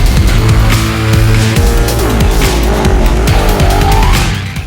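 Ducati Panigale Superleggera, a limited-run superbike, blasts down a runway at Bruntingthorpe in a straight-line race, its loud engine howling continuously through rapid gear changes and rising revs, close and dominant throughout.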